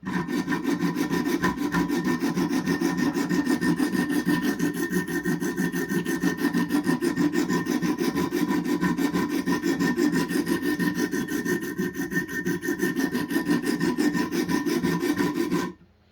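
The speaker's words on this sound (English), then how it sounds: "what I'm doing now is just trying to grind it down back to the 20 degrees" D2 steel knife edge ground on a Wicked Edge Pro-Pack III guided sharpener, rapid rhythmic back-and-forth scraping strokes, loud, close and continuous for about fifteen seconds before stopping abruptly, no talking.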